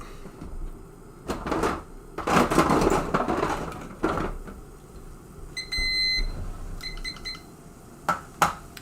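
A kitchen timer chirps in short electronic beeps, two quick bursts of rapid tones, amid clattering and rustling of kitchen work.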